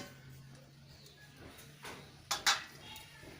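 A lid goes onto a cooking pot of turnip and potato curry with two quick metallic clinks close by, over a quiet kitchen hum.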